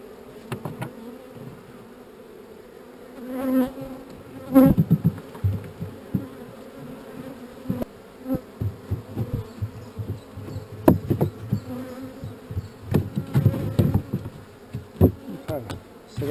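Agitated honeybees buzz around an opened Layens hive during an inspection, a continuous close drone with sharper bursts and knocks of handling and wooden frames, growing busier midway.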